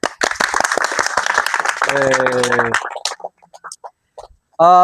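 A class of students claps in a burst of applause during a pencak silat kicking lesson, with voices calling out between and after the clapping.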